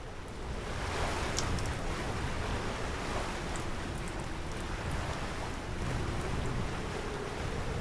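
A sailboat running through waves in the sailing simulator Sailaway II, a steady broadband rush of water and wind at a constant level with no talking.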